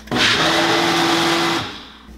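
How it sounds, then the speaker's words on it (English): A countertop blender whirs steadily through a mojo marinade, one loud continuous run of about a second and a half with a steady motor hum, then cuts off and spins down. "get your blender on its base and we're just gonna hit blend."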